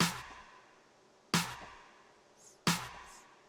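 Three layered snare hits, each a sharp, bright crack followed by a long reverb tail that fades away, spaced evenly with silence in between and no voices.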